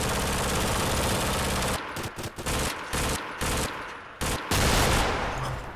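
Tank guns in the video game Red Orchestra: Ostfront fire in dense, sustained bursts, loud and close, with a long unbroken stretch of rapid shots followed by choppy bursts and short gaps.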